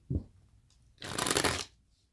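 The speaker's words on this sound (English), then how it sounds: "I'm going to pull some cards." Tarot cards being shuffled and pulled, a short soft flick near the start followed by a loud, dense burst of riffling cards lasting about half a second, then quiet.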